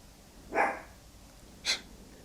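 Dog barking and snorting: a single broad bark burst, then a brief sharp snort or yip about a second later, both fairly close and separated by quiet room tone.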